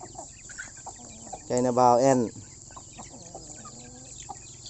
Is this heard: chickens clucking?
yes